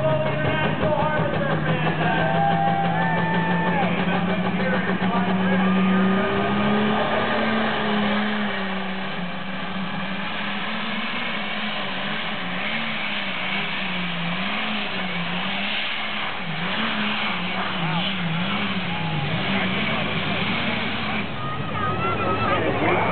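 A Case tractor engine fitted with a Ford turbocharger runs steadily and loudly, its pitch rising slightly early on and then holding a droning idle with a whining harmonic throughout.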